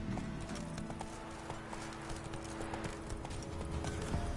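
Roach, Geralt's horse in The Witcher video game, gallops with quick, rhythmic clip-clop hoofbeats that stay steady and close throughout, with a low rumble of game ambience beneath.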